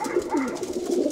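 Pigeons coo softly and repeatedly at close range in eastern Thessaloniki, a brief run of throaty, rolling calls with no voices over them.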